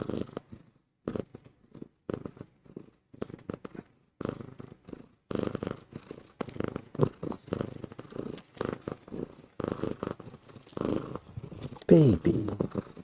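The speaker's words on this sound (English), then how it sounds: "She's really purring" A cat purrs close up in steady, rhythmic pulses, loud and rumbling, with a brief higher vocal sound near the end.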